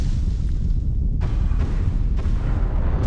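Muffled booming blasts of a rocket exploding in Kerbal Space Program 2 sound over a constant low rumble, with a few dull explosive bursts in quick succession.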